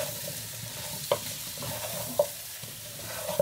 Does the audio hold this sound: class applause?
no